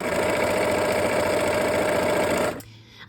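A sewing machine stitching quilt blocks, a steady rapid mechanical whirr and clatter running continuously before stopping abruptly near the end.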